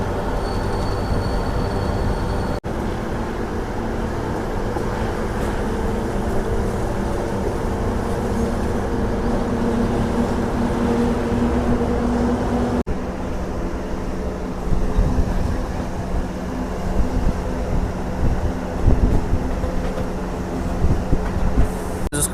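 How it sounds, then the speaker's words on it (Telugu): A passenger train hauled by a WAG-9HT electric locomotive rolls past in a continuous broadband roar of wheels and carriages that holds steady at close range for over twenty seconds, with faint squealing tones. "మనకైతే ట్రైన్ వస్తుంది బ్యూటిఫుల్ డబ్ల్యూఏజీ నైన్ హెచ్టీ లొకోమోటివ్తో"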